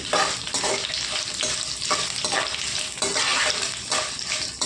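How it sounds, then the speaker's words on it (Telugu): Urad dal and dried red chillies fry in a pan for gongura chutney: a steady close sizzle with repeated scraping stirs of a spatula throughout, loud and unbroken, with no talking. "మినపప్పు కొద్దిగా వేగాయండి ఎండు మిరపకాయలు వేసుకుందామండి ఇందులో వేగాలండి"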